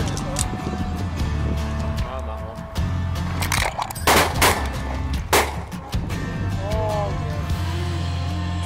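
A shotgun fires TSS shot at pink-footed geese coming in to decoys over frozen ground, giving several loud sharp reports in quick succession over outdoor background noise, with people talking.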